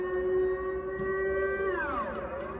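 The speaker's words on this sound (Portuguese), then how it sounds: "Ó, a sirene tocando." A civil defense siren on its monthly test in the Netherlands holds one steady wailing tone, then slides downward as it winds down, loud and sustained with no talking.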